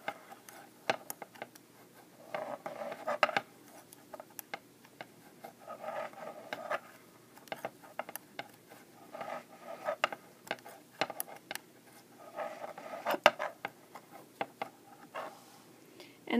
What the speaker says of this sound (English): sorry about the sound of my knitting needles hitting the table